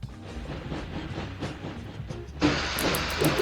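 A train arrives in the game Sheep, Dog n' Wolf, a low rumbling roll of wheels with faint rhythmic clatter, then a loud hiss of steam bursting in as it pulls up.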